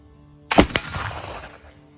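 A single black powder gun shot fired with wet-milled powder, a sharp loud blast with a quick second crack and a short rumbling decay into quiet.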